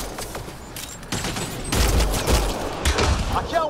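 Bursts of rapid gunfire from a firefight in the sci-fi shooter Mass Effect Andromeda, several fast volleys of shots close by, with voices shouting over the shooting.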